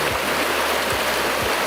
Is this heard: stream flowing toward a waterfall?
yes